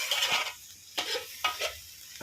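Onion flowers stir-fried with squid and sliced red chili sizzle in a pan, with several distinct scraping stirs at irregular intervals over a hissing fry, close and without voices.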